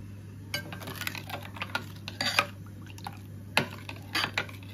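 Water poured and stirred in a bowl for chaat, with light spoon clinks against the bowl and a few splashy liquid bursts over a steady low hum, no talk.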